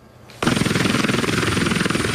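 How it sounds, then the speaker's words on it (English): A helicopter used by the Trumps starts up abruptly and then drones on loud and close, with a rapid, pulsing rotor chop that holds steady throughout. "If this looks familiar, the Trumps and their helicopter."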